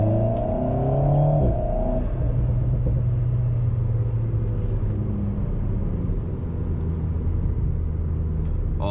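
An Alpine A110 sports car fitted with a RaceChip tune, rated at 303 hp, pulls hard under acceleration. A loud, steady engine drone with rising harmonics is heard from inside, with no talking over it.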